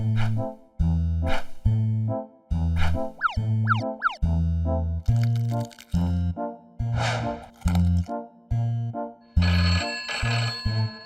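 A cartoon telephone rings in repeated bursts of tonal electronic trills, separated by short gaps. Springy boing-like effects are mixed in, and the ringing stays loud and close throughout.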